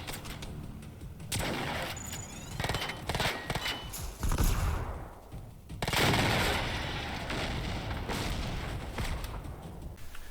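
Weapon fire and explosions from the Generation Zero shooter, with loud sharp gunshot bursts in rapid clusters and heavy booming blasts that roll and fade, all close and dense.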